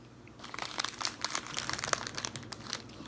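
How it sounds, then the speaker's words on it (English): A crunchy, cheesy pastry snack being chewed up close, with dense crackly crunching bursts that start after a brief quiet moment. The chewing is faint and continues without talk. "It got the crunch of like how a crouton would taste."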